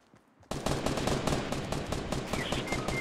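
Rapid automatic gunfire in the Fortnite battle royale game, a dense, loud continuous burst of shots that erupts suddenly after a brief quiet moment and keeps hammering without pause.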